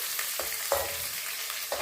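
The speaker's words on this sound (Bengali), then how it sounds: "চিংড়ি মাছ বেশি ভাজা যাবে না, হালকা একটু ভেজে নেওয়ার পর নামিয়ে নিচ্ছি।" Prawns frying lightly in a pan give a steady soft sizzle, with a few brief stirring scrapes standing out at intervals; no one speaks.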